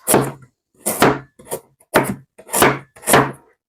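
Knife chopping dragon fruit on a board for a healthy juice, six distinct crisp cuts at a steady pace, close and clear with no talk.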